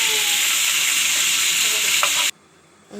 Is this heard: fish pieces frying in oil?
yes